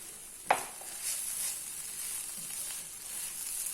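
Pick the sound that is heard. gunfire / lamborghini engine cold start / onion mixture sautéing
onion mixture sautéing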